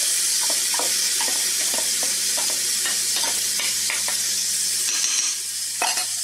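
Onion sautéing in a hot pan for pasta with chestnuts, pumpkin and cheese: a steady, loud sizzle runs throughout, with repeated scraping strokes of a spoon stirring through it.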